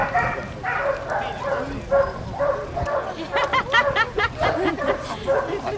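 A drug detection dog at a customs training session in Giurgiu barks in a rapid run of sharp, close barks and yips, with voices murmuring in the background.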